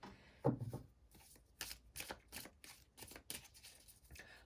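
Soft, close riffling and flicking of tarot cards being shuffled, a quick series of papery snaps and rustles at low volume with no voice.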